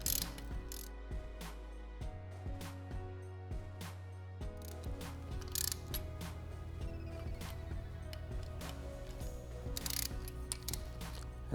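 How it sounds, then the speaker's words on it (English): A ratchet tool clicks in rapid bursts while tightening engine case saver screws on a 2009+ BMW S1000RR, close and fairly quiet, with short pauses between runs of metallic pawl ticks. "And this last pass will be me torquing the screws to 8 foot-pounds."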